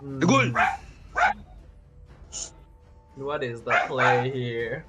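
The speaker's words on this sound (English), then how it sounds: "Whose dog is barking?" A dog barks in short yips and bow-wows close by, with several quick bursts coming through and over someone talking.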